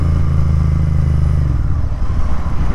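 Royal Enfield Continental GT650 motorcycle with a Red Rooster performance exhaust, loud and close, a deep steady engine drone that drops off into rougher, lower rumbling partway through.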